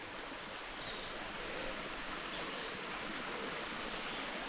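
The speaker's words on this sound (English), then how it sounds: "Just a little waterfall on the creek." Small waterfall cascading into a pool on Bear Creek in Arkansas, a steady broadband rush of falling water that stays even and close throughout, with no voices.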